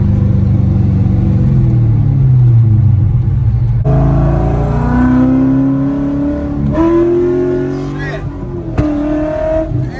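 LS3-swapped C5 Corvette, a manual stick car, accelerating at half to three-quarter throttle from about 50 mph, heard from inside the cabin as a loud, steady engine drone that climbs in pitch, with voices talking over it.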